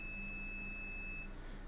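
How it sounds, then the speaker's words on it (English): An electronic device under repair gives off a thin, steady high-pitched beep. The tone holds for about a second over a faint, constant background hum. "I asked for no beep and it says stuff you."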